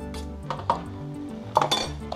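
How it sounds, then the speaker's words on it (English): Utensil scraping a sticky date slice mixture of dates and flour off a bowl, with a few short clinks and scrapes of metal against the dish, close and fairly loud. "let's scrape that off"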